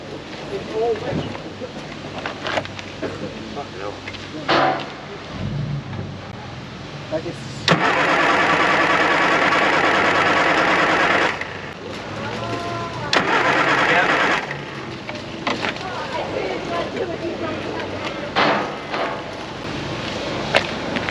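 A wet Classic Mini, fresh from a car wash with a damp distributor, cranks repeatedly without firing. Long loud starter bursts alternate with pauses and nearby talk, and there are a couple of shorter cranking attempts.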